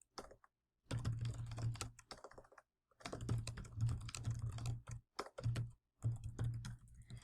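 Rapid keystrokes on a computer keyboard as an answer is typed into an online discussion board, coming in several bursts of steady clicking separated by short pauses, close and clear with no talking.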